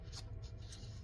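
A pencil scratches quickly across cardstock in a few short strokes, close and faint, with no voices.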